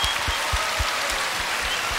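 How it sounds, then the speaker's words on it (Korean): A studio audience at a 2001 televised national singing contest final claps together in a broad, steady wash of applause, with soft low thumps pulsing underneath throughout. "박수."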